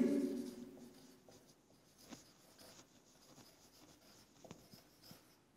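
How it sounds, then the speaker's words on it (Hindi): A pen writes a sentence by hand, soft scratchy strokes and small taps coming in short bursts, quiet and close, with a brief low murmur at the start. "अब देखें एक और सेंटेंस में लिखता हूं."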